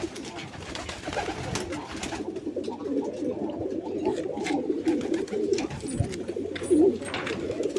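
Domestic pigeons in a loft coo continuously as they squabble, a dense, rolling murmur of low calls with a few louder bursts, close by and with no talk over it.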